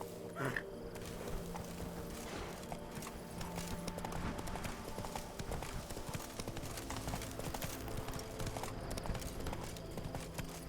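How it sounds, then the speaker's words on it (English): Hooves of Roach, a galloping horse in The Witcher 3, beat in a fast steady rhythm for about ten seconds, close and prominent, with a brief whinny near the start and a constant game ambience underneath. "Come on, Roach."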